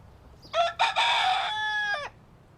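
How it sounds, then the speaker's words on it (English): A rooster crows once, loud and close, a single drawn-out call lasting about a second and a half against a quiet background, in a farmyard with hens. "quite a few hens and cockerels sort of running around the place."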